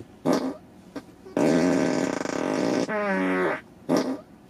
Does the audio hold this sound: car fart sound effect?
yes